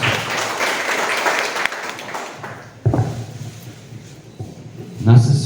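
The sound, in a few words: audience applause in church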